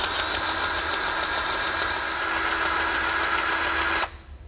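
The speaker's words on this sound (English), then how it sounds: "So we have a grease gun here. We're gonna add some grease to this wheel end." A grease gun pumps grease into a trailer wheel end hub, a steady mechanical whir running close and continuous for about four seconds before stopping abruptly.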